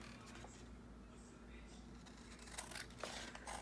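Scissors cut paper during a mixed media envelope craft, with a few quiet snips and rustles near the end over a low background hum.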